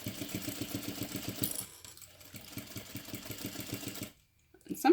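A sewing machine back stitches a 1/2 inch seam on a crossbody bag, running in fast, even bursts of needle chatter close by, with a brief pause partway through and then a stop into silence before a small clunk.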